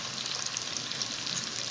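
Onions fry in a pan for a white chicken karahi, giving a close, steady bright sizzle that holds evenly throughout the short stretch without any talking.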